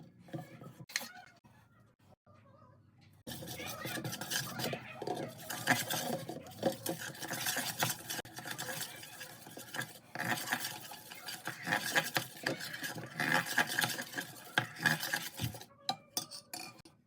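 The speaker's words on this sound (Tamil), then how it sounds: "பிளெண்ட் பண்ணி எடுத்த ரெண்டு இன்கிரீடியன்ஸையும் இப்போ நான் செய்த மாதிரி நல்லா மிக்ஸ் பண்ணி எடுத்துக்கோங்க" Blended dates and melted white and dark chocolate being mixed in a bowl, producing steady, close scraping and clinking of a spoon against the dish with a rhythmic, continuous stirring texture after a quiet start.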